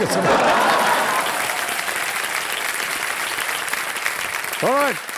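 Studio audience on the game show Kaun Banega Crorepati applauding steadily, a dense wash of clapping that fills the clip, with a voice briefly rising near the end.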